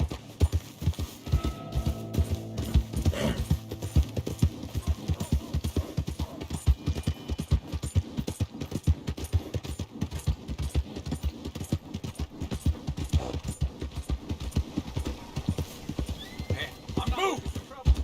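Rapid, continuous clip-clop of horse hooves at a brisk rhythm in the video game Red Dead Redemption 2, with a horse whinnying and a voice speaking over the galloping.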